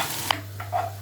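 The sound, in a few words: stirring frying onions in a pan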